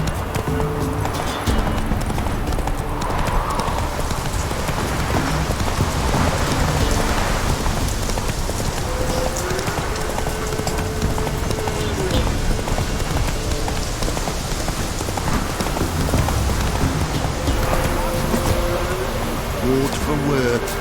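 Horse hooves clip-clop steadily through heavy rain in The Witcher 3, the rapid rhythm half-buried under a dense hiss of downpour, with game music and voices mixed in.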